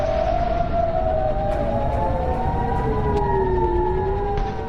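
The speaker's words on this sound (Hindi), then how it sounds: "खाड़ी के देशों में इस वक्त सिर्फ वॉर सायरन बज रहे हैं।" War sirens in the Gulf countries wail with overlapping tones that slowly rise and fall, loud and continuous with no voices over them.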